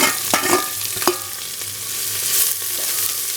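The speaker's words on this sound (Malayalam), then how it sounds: "ഇനി നമ്മൾ സവോളയും പച്ചമുളകും നമ്മുടെ ഇഞ്ചി വെളുത്തുള്ളി പേസ്റ്റും കൂടി ഇടും." Onion, green chili and ginger-garlic paste sizzle in hot oil for spicy tomato rice, a constant close hiss broken by a few sharp utensil knocks early on, no voices.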